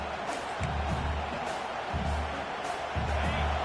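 Football stadium crowd at a college game roars as a steady, dense wash of noise, with low rumbling swells rising and falling every second or so and no clear voices standing out.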